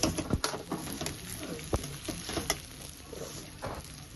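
Fried gobindobhog rice and pointed gourd stirred in a pan, with soft sizzling and scraping along with a few sharp spoon knocks, close but fairly faint.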